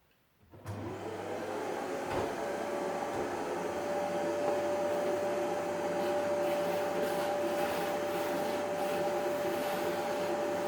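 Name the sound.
vacuum cleaner on floor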